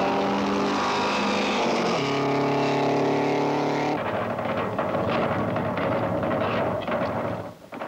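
Old-time racing cars roar in a motor race, with loud sustained engine drone that shifts pitch as the cars pass, followed by a rougher wash of engine and crowd noise.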